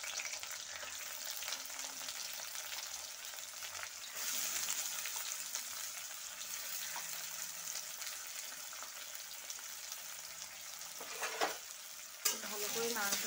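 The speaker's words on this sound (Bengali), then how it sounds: "দেখো পেঁয়াজগুলো আমার একটু ভাজা হয়ে গেছে" Chopped onions frying in hot mustard oil with cumin and dried chillies, a continuous close sizzle with stirring scrapes and a couple of sharper clatters near the end.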